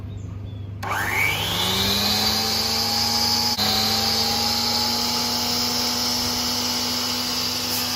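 A saw motor starts up and its 10-inch blade spins to a steady, whining hum, the pitch rising quickly and then holding steady, close by with no voices.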